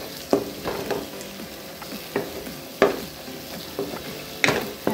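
Masala stir-frying in oil for a karandi shrimp dish, steady sizzle broken by repeated sharp scrapes and knocks of a spatula against the pan, close and clear.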